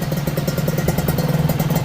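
A motorcycle on a standard engine idles nearby, its exhaust putting out a steady run of rapid, even pops and clatter with no pause.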